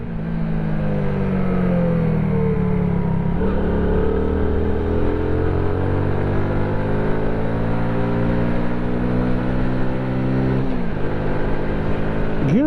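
A Honda C90 motorcycle fitted with a Lifan engine runs steadily and loudly throughout, its engine note holding a continuous drone with slow pitch shifts as it revs up and down, no talking over it.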